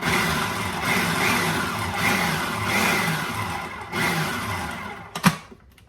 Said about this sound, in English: grind them all about the same, just pulse them a little bit